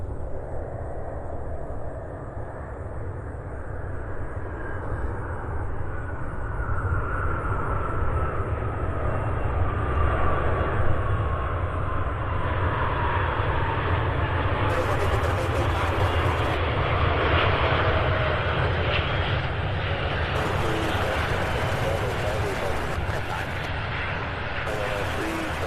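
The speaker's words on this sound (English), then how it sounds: "UPS 2993 out of Spokane, Washington, a 757 200 series." A UPS Boeing 757-200 lands at Louisville International Airport, its jet engines a broad, steady roar with a descending whine, heard from a distance while a commentator talks throughout.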